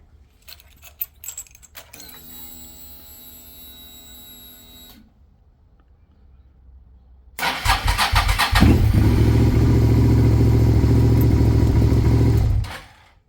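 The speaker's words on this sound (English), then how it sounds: "The NOCO at 20 degrees Fahrenheit was able to start the bike." Motorcycle powered by a NOCO lithium battery at 20°F: rattling key and starter clicks, a brief whirring crank, then the engine catches into a loud, steady idle that runs for several seconds before cutting off.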